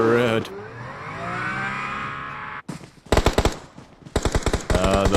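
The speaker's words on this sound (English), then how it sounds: "So they heard the gunshot from GR for sure in the distance." Gunfire in the PUBG Mobile battle royale game rips out in rapid automatic bursts, loud and close, after a vehicle engine revs and hums; voices talk over the action.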